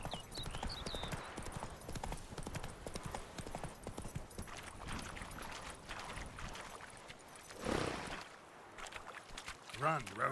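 Roach the horse galloping in The Witcher 3, a steady rapid clip-clop of hooves running throughout with game ambience and someone talking over it, a brief louder swell near the end.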